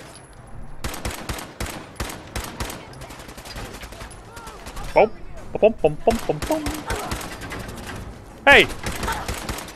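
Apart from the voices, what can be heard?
gunfire in video game Fallout 4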